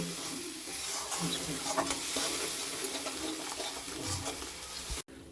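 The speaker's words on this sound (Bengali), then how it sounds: "মশলাগুলো একটু নাড়িয়ে নেবেন মোটামুটি একটা একটু কষিয়ে নেবেন" Spice masala for a katla fish kalia fries with a loud, constant sizzle in a pan while it is stirred with intermittent scraping, then the sound cuts off abruptly near the end.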